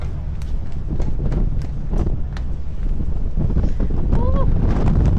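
Strong sea wind roars across the open deck of a ferry sailing from the mainland toward Iceland, loud buffeting rumble steady throughout with brief speech and faint clattering on top.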